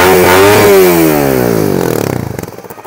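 A 2018 Suzuki GSX-R150 motorcycle engine revs hard close by, its pitch sweeping down as the rev falls back toward a pulsing idle; loud and unaccompanied by talk.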